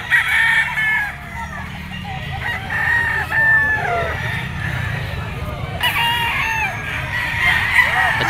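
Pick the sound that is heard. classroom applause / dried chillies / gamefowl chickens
gamefowl chickens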